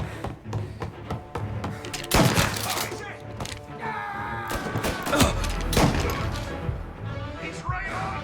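Gunfire in the video game Mafia Definitive Edition, a chaotic firefight with scattered loud shots and impacts, some near and some distant, mixed with shouting voices and background game noise.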